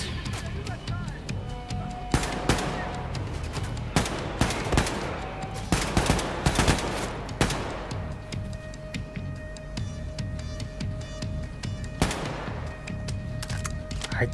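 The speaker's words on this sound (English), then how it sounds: "I killed him by shooting at his elbow" Wolfenstein II: The New Colossus gunfire arrives in sharp, loud bursts of shots spread across the stretch, some in quick clusters. A voice talks underneath throughout.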